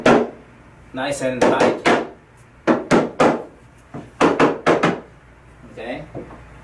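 Wooden dowels are tapped into pre-drilled holes in the side panel of a frameless drawer base cabinet, making sharp knocks in quick bursts and clusters, close and loud, with a person talking between them.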